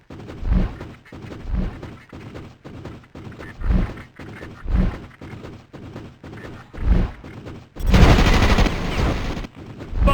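Repeated bursts of automatic gunfire in the PC game Starship Troopers: Terran Ascendancy, loud, close clusters at a steady rhythm, then a denser, heavier volley near the end.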